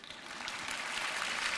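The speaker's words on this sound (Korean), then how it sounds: "박수가 나와야 되는 거죠" An audience at a prayer gathering breaks into applause, a dense, even patter of clapping that holds steady throughout and sounds somewhat distant.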